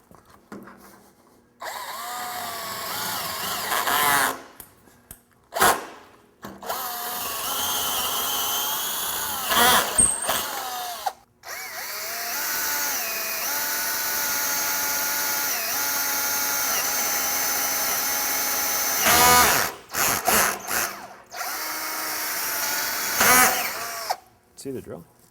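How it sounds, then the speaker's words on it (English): A power drill runs while a trailer frame is built for a retro camper, whining in long bursts with short stops and restarts, loud and close, with people talking over it. "See the drill? It's probably on too high of a speed."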